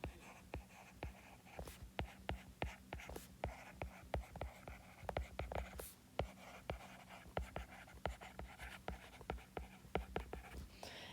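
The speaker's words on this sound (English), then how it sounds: "so let me write that out really quickly" Pen strokes scratch and tap rapidly while a chemical formula for copper sulfate pentahydrate is written out, giving an uneven stream of quiet, close, crisp clicks with soft breathing in the background.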